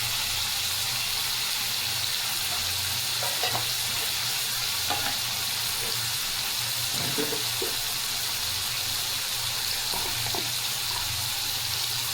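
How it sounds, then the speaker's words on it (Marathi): Red chili masala, turmeric and salt fry in an oiled pan for a Khandeshi tomato curry, making a loud continuous sizzle with occasional scrapes of stirring. "त्यात लगेचच लाल तिखट मसाला, हळद, मीठ टाकून फ्राय करूया"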